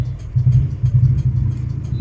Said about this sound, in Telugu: మిక్సీ పడుతున్నానండి చట్నీ